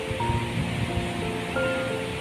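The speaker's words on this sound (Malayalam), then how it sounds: "വെള്ളം കുത്തി ഒഴുകണതിന് നല്ല സൗണ്ട്." River water rushes steadily over rocks at Ezhattumugham, a tourist spot, as a continuous loud broadband roar with no pauses and no voices.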